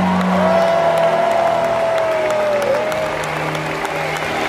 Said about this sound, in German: Jubelt, jubelt Kaltenberger für Ritter Seifried!